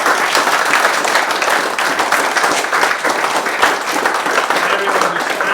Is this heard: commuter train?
no